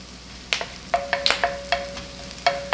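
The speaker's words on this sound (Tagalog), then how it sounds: "Yan, piniprito natin yung curry leaves." Curry leaves and chili frying in hot oil, a low sizzle under repeated sharp clinks and scrapes of a utensil stirring against the pan, close and fairly loud.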